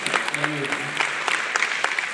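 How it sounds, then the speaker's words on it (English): A fan convention audience at MCM Scotland 2014 applauds a cosplayer, with steady scattered clapping under a voice speaking over it at the start. "Give her a round of applause"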